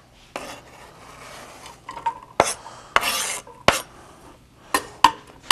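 Chicken fried steaks set into a preheated pan over medium to medium-high heat with a little olive oil, giving several sharp metallic clanks and scrapes of pan and utensil, each followed by a brief sizzle, close and clear.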